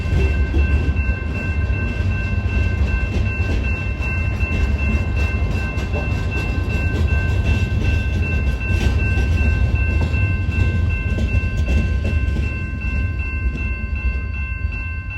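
A CN freight train on the Fox Lake subdivision at Grays Lake, Illinois, rumbles on steadily after a stop, its cars grinding and clacking loud and close for the whole stretch, with no voices over it.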